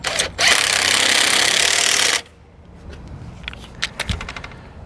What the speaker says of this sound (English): We're gonna use a 3/4 socket for the smaller bolts.